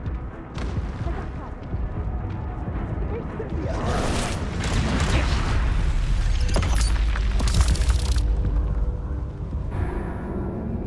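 Repeated fiery blasts from the Confringo spell in the Hogwarts Legacy video game, a dense run of booming explosions and crackling bursts that overlap continuously, with game voices mixed in.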